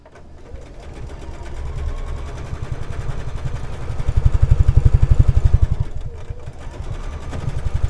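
A sewing machine stitches quilt block pieces with a fast, steady mechanical clatter that speeds up and grows louder toward the middle, then eases off and picks up again.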